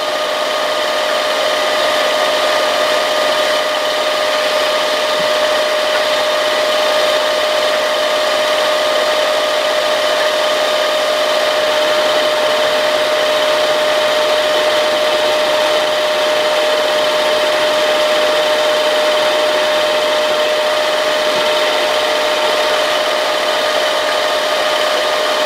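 Power drill boring through a part of ATV Mattracks, a steady loud whine with a fixed tonal hum running unbroken and close throughout, no pauses.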